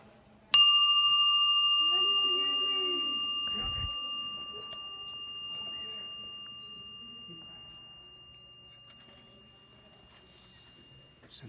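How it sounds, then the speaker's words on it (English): A single bell strike inside Moaning Caverns, a limestone cave, rings out loud and clear, then hangs and slowly fades in a long echoing decay while voices murmur softly underneath. "listen to the sound of this bell."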